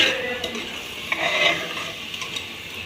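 Chickpeas go into a pan of sizzling tempering for a black chickpea and paneer curry, giving a steady low frying hiss with brief stirring scrapes and clinks of utensil against the pan.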